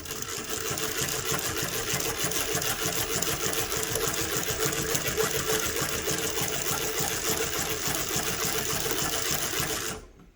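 A Mauzer Mannan three-thread chain stitch machine runs continuously at close range, a fast steady mechanical whirr and clatter for about ten seconds before stopping abruptly.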